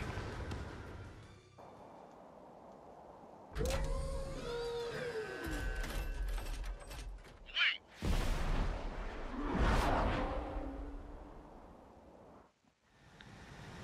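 UAVs launch in the video game Ace Combat 7, a series of loud mechanical launch blasts and whooshes with rising tonal whines and rumbling engine noise, separated by brief quieter gaps.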